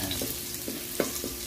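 Garlic frying in a pan while being stirred, a steady crackling sizzle with several soft scraping knocks from the utensil at a fairly even rhythm, close and alone.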